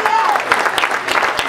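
A church congregation claps during a worship service, a dense run of applause with a voice calling out over it.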